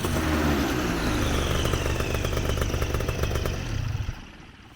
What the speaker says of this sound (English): that's the first cycle that we ran the engine through